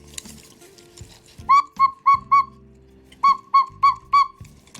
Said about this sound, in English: That's the first half of it, of the cuckoo sound.